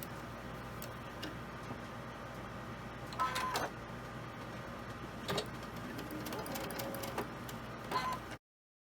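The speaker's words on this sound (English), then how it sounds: "And then I'll sew both of these." A sewing machine stitches quilt pieces for a sunflower block, giving a faint, steady, low whirring hum with light ticking and a few small clicks and bumps, sounding alone with no voices.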